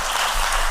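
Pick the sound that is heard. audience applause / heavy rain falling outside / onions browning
audience applause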